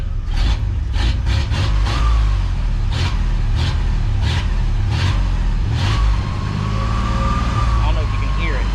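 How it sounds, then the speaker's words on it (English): A free go-kart's motor runs roughly with a steady low rumble, and a thin whine rises out of it toward the end. A voice talks over the engine throughout. "But there's a whine coming from the motor right there."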